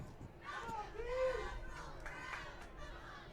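Football crowd at a varsity high school game cheering and yelling for the defense, a distant mass of shouting voices with a swell in the middle, fairly faint and steady throughout.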